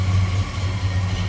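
A 1966 Pontiac GTO's 1968-vintage 400 V8 idles steadily close by, a deep, even low rumble with a lumpy pulse and no revving or voices.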